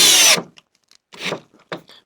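A cordless drill whirs in a short burst as it drives Torx screws into a garden trailer being converted to a bulk carrier, followed by scattered knocks and scraping from handling the work.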